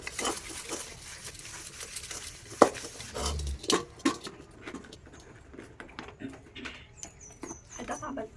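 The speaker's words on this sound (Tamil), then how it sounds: "பாருங்கள் ஃப்ரெண்ட்ஸ், பாத்திரம் விளக்கிட்டு இருக்கேன்" Dishes, pots and utensils being washed in a home kitchen in Odisha, with clinking metal, scraping and clattering at close range in irregular bursts, someone talking over parts of it.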